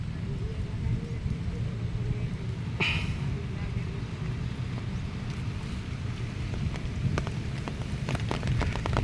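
Steady rain falls over the swollen, flooding Marikina River, a constant broadband wash with rushing water beneath, one brief sharper splash or gust partway through and scattered drips toward the end.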